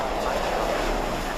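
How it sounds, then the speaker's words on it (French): Boeing airplane taking off, a steady, dense engine roar with low rumble and broad hiss, loud and unbroken throughout, with a voice apparently underneath. "Now, Boeing is airborne."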